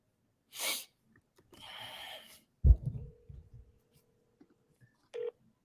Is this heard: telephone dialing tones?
yes